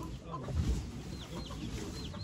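Chickens at a poultry auction in Ankara, including Japanese bantam hens and roosters, cluck and chirp in scattered short calls over a steady murmur of crowd noise, with no clear talk.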